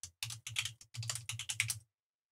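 Keys tapped on a computer keyboard, including the Shift key, in a quick irregular run of close, crisp clicks that stops abruptly, with no talk.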